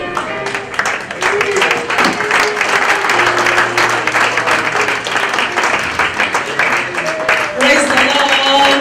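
A church congregation at a Sunday service applauds loudly and steadily, many hands clapping in a dense burst with voices rising over it and a brief held tone in the middle.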